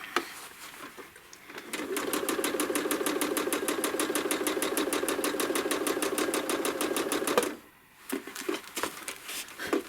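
A sewing machine free-motion stitches feather patterns on a quilt, its needle beating in a fast, even rhythm for several seconds before stopping abruptly, then a few light handling taps.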